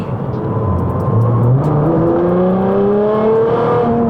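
A Litchfield-tuned 757 bhp Nissan GT-R R35 Nismo in track spec accelerates hard, its engine note climbing through the revs in rising sweeps with a short break at a gear change, loud and close.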